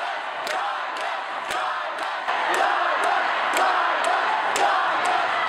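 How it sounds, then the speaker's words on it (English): Protest crowd at a university divestment rally chanting in rhythmic unison, a loud mass of voices repeating the chant with regular sharp accents roughly every second, close and sustained throughout. "they just break out into chants of divest"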